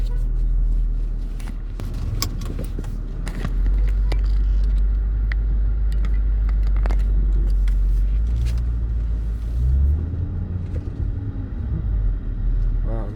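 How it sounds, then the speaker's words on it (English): A car drives on a road in The Gambia heading toward the highway, with a steady low engine rumble and interior road noise throughout, plus occasional rattles and clunks, close and fairly loud. "I'm gonna drive straight all the way to the highway"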